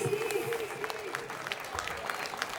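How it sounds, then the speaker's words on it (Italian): An audience at an outdoor concert in Piazza Milano, Jesolo, applauds in a brief, fairly faint burst of scattered clapping, with a voice speaking over the start. "Che applausi speciali, fatevi sentire!"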